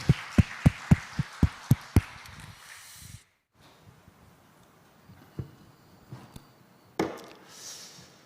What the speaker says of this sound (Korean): 하나님께 영광의 박수를 한번 드리겠습니다